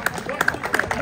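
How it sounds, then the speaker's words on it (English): Spectators clap for volleyball teams at a tournament match, a brief burst of scattered, uneven handclaps from a small crowd. "Please give them a big round of applause and support."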